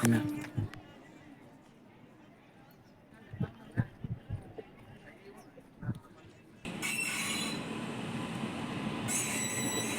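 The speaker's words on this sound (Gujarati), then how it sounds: "અને આપણી ગાડી આમાં આવે છે" Quiet railway station ambience with scattered clunks, then a train rolls in loudly with rushing noise and squealing wheels, voices faintly in the background.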